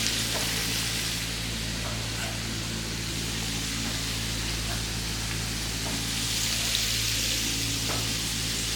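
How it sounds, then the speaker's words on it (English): Food stir-frying in a hot pan at a Jamaican cookshop, a steady loud sizzle and hiss with faint clatter running throughout. "make some stir fry"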